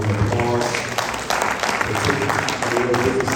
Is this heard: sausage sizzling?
no